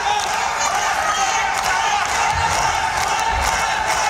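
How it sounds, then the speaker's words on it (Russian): Chechen fans in an ACA MMA arena chant their fighter Asvad Akhmatov's name: a steady, dense crowd roar with rhythmic swells, heard from a distance and without pause throughout. "довольно много чеченских болельщиков поддерживают своего спортсмена. И не совсем сейчас понятно, они скандируют Асват или Ахмат"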